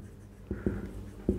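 A pen scratches across paper in a few quick strokes while writing out equations in a different ink. The strokes are faint and close over a low background hum.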